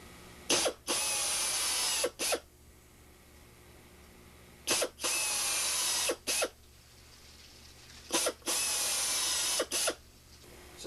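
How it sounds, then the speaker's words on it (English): Drilling aluminum wing skin into the ribs on a Van's RV-6 wing: three spaced bursts of a high-pitched power drill, each a couple of seconds long with short starts and stops, loud and close. "from here we'll go ahead and drill this skin"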